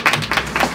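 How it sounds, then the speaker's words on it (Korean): A small group of people claps in a few quick, close bursts after a Treasure award win backstage at the 2023 MAMA awards. The clapping is loud, brief and bright, with no talking over it. "박수!"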